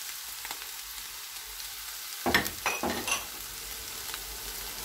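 Onions hit hot oil in a pan for a spiced bread dish, giving a sudden burst of sizzling with a few stirring scrapes, close and fairly loud, after a quiet start.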